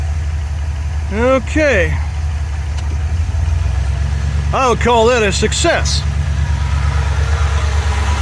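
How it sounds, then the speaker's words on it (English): A 1984 Ford E150 camper van engine idles steadily after sitting unused since 2019, a loud, constant low rumble close by, while someone speaks briefly over it. "So we are running and we are idling."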